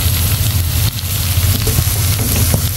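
Onions with salt frying in a pan for tomato rice, a steady close sizzle with a low rumbling bed and occasional faint stirring clicks, no one speaking.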